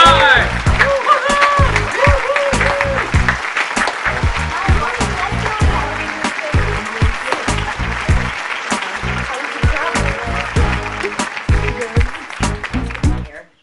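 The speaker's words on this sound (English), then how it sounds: "Let's everybody give him a warm round of applause." A studio audience applauds to welcome a guest on a talk show, loud, dense clapping with rhythmic thumps and voices mixed in, continuing steadily before cutting off abruptly.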